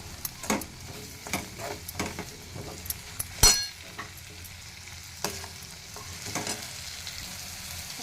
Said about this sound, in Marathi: लाल तिखट आणि गरम मसाला हे छान आता आपण ह्याच्यामध्ये मिक्स करून घेऊ